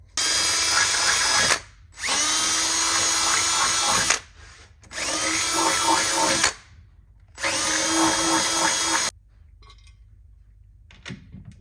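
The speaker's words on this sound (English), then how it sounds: "we found that it's easier to drill without the bracket in place." A power drill whines into metal in four sustained bursts of a couple of seconds each, separated by short pauses, loud and close, then quiet, while fitting vehicle rock sliders.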